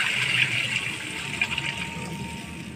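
A jug of water is poured into a kadhi mixture, making a close, steady gushing splash that tapers slightly over about three seconds.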